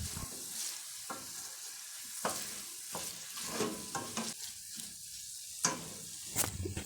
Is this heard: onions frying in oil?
yes